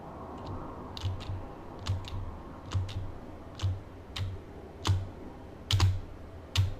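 Computer keyboard typing, a series of separate key taps and clacks in an irregular rhythm, close and fairly quiet over faint background hum, with no talking.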